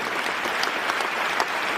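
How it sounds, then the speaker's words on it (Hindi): An audience claps steadily through the whole moment, a dense, even patter of many hands at moderate volume with no voices over it. "एक बार उनके लिए जोरदार ताली होनी चाहिए"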